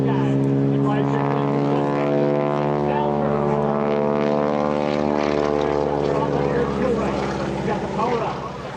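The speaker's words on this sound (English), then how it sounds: "She rolls that airplane right on around as she exits off up Airshow right." A propeller airplane flies low over an airshow crowd at EAA AirVenture, a loud, steady engine drone with rising and shifting harmonic tones through the whole pass, with an announcer talking over it.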